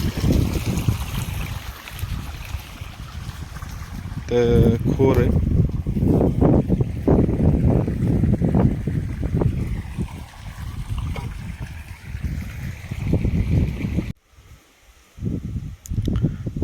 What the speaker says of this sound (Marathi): झाली आपली मोटर चालू